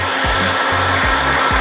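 Heat gun warming vinyl wrap on a Renault Trafic van bumper, a loud steady close blowing roar with repeated dips and rises in pitch as it is worked across the surface, no talk.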